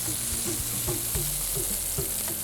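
Millet shami kababs fry steadily in a pan on a gas stove, a constant close sizzle with occasional clinks and scrapes from stirring.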